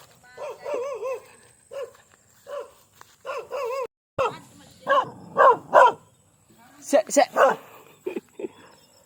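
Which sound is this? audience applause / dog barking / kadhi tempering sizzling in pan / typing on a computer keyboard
dog barking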